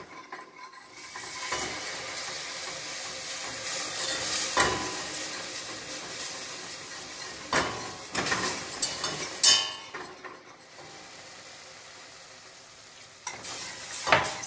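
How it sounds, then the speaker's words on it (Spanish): Butter and flour roux for a beef lasagna being stirred in a pan, a steady close sizzle with scraping strokes of the utensil and a few clinks against the pan, no talking. "Y revolvemos muy bien a que esté cocida la harina"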